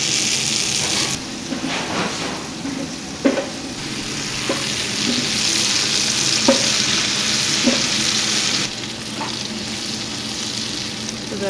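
Butter melts and bubbles in a hot pot for a big batch of Rice Krispie treats, a steady, loud sizzle with a few soft knocks of stirring throughout.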